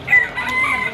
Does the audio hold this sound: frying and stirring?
no